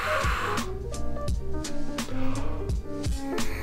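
A trumpet plays a run of short, close, clear notes, each softly started with an airy 'hu' breath attack instead of a tongued consonant.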